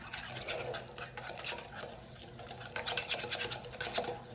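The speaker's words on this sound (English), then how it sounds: "Let me whisk this up." A whisk beating a Greek yogurt, mayonnaise and olive oil dressing in a bowl, giving quiet, rapid, uneven scraping and tapping that gets a little louder toward the end.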